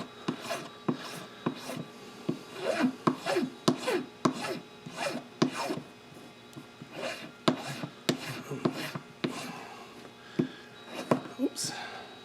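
A file rasps against a piece of hard wax in repeated short, scratchy strokes, close and fairly loud, with irregular rhythm as the filing direction keeps changing.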